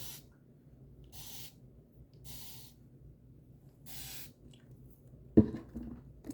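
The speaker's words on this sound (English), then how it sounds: "I'm just gonna spritz my hair just a little" A spray bottle spritzes water onto hair in four short, crisp hissing bursts at even intervals, close and fairly quiet, followed by a brief bump.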